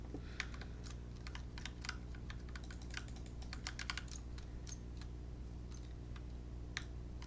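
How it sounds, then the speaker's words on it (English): Rapid clicking keystrokes on a loud mechanical computer keyboard, steady and close, with no voices and a low hum underneath. "I think you're more likely to be able to hear the keyboard than the mouse."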